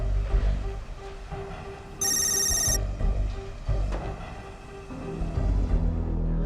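An electronic telephone ring sounds once, loud and high, over a steady low background rumble with no talking.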